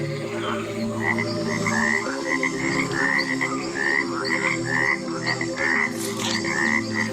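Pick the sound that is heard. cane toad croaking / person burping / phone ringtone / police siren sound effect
cane toad croaking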